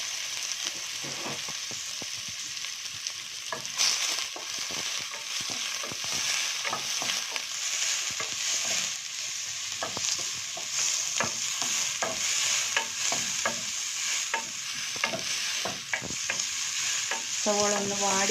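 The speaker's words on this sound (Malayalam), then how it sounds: "എണ്ണ ചൂടായി കഴിയുമ്പോൾ നമ്മൾ സ്ലൈസ് ചെയ്ത് വെച്ചിരിക്കുന്ന നമ്മുടെ സവോളയാണ് നമ്മൾ ആദ്യം അതിലേക്ക് ഇടുന്നത്" Sliced onions frying and being stirred in hot oil in a pan, a steady loud sizzle with repeated scraping stirs throughout, no voices.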